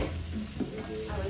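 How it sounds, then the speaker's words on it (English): Food sizzles steadily in a pan on the stove while being stirred for a homemade supper, a constant frying hiss with soft scraping strokes, close and alone. "I better stir these."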